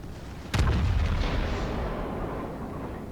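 Naval gun salvo firing in the World of Warships video game, a single loud booming blast that rolls off into a long rumbling decay, heard close and without talk.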